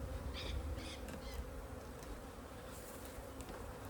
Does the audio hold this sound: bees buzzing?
yes